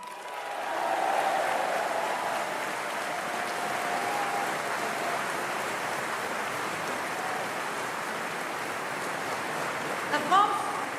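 Sustained audience applause at a 2013 party summer conference, a broad steady roar of clapping from a large crowd that swells early and holds for about eleven seconds with no voices over it.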